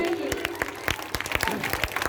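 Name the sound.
audience applause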